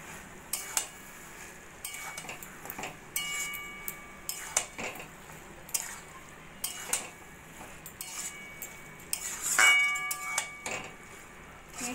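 Cooked lauki with Gobindobhog rice and moong dal being stirred in a pan, a metal spoon clinking and scraping against the pan in a series of light, irregular ticks and taps.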